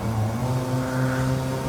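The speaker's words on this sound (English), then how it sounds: "You can actually hear the engine idling" Toyota C-HR engine idling in Gran Turismo 7, a steady low hum with stable harmonic tones, continuous and fairly loud throughout with no talk.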